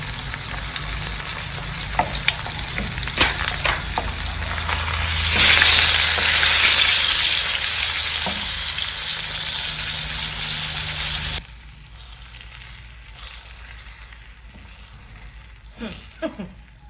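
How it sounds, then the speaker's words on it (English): Kobi, a dried salted fish, frying in ordinary oil for a Ghanaian garden egg stew. A loud, close sizzle surges midway, then drops abruptly to a quieter simmer with occasional pops. "So I need the Kobe to add flavor to the oil so that I cook it out"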